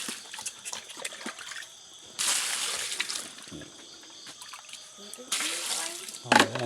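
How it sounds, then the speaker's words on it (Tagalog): Water runs and trickles from a free supply in a rural province, in intermittent bursts of splashing that grow loud, then settle, with a person talking softly underneath. "Ayan ang tubig oh."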